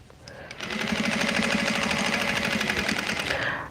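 A sewing machine runs steadily while stitching a quilt pillow, a fast even mechanical whir that starts after a brief pause and holds at close range for about three seconds before winding down.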